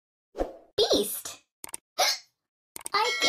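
Cartoonish hiccup sound effect from the Endless Wordplay mobile word game, a few short separated plopping blips heard alone between brief pauses, fairly loud and close.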